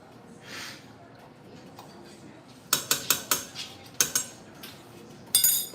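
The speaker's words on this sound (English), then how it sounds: "so now we'll give it a quick stir" Metal spoon clinking and scraping against a cooking pot of beef and tomatoes, a run of sharp clanks about once every half second, close and clear, with quiet room noise between strikes.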